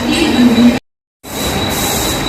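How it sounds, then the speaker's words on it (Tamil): A busy platform at Kurla railway station in Mumbai fills the clip with a steady, loud rumble of station and rail noise that cuts out briefly to silence partway through and then resumes. "இது குர்லா ஸ்டேஷன். ஒரு பிஸியான ஒரு ஸ்டேஷன் பாம்பேயில்."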